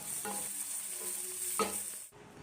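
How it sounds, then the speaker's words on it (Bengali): Chopped onion and a torn dried red chilli frying in oil in a pan after whole cumin, giving a steady low sizzle with a few stirring scrapes, which cuts out near the end. "ফোড়নের গন্ধ বেরোলে দিলাম পেঁয়াজ কুচি আর একটা শুকনো লঙ্কা ছিঁড়ে দিলাম। পেঁয়াজ হালকা ভেজে নিচ্ছি।"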